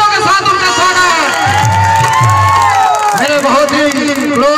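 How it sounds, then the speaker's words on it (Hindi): Crowd at a stage event greeting an arriving elder guest with loud applause and cheering, dense and close, mixed with shouts and an amplified voice over a public address system. "जोरदार तालियों के साथ उनका स्वागत।"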